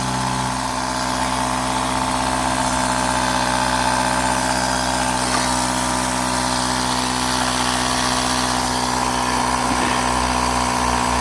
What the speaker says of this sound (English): instantly putting our pump on.